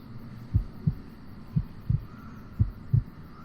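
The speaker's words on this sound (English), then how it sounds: "Listen for heartbeat." Heartbeat sounds in the Dark Romance hidden-object game pulse as soft, low thumps in lub-dub pairs, three double beats at an even, slow pace over a faint hum.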